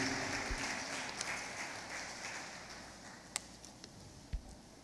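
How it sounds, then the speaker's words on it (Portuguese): Church congregation applauding loudly for the Lord during a Portuguese-language worship service, a broad steady wash of clapping with a few sharper claps standing out, no voices. "aplaudindo bem forte ao Senhor"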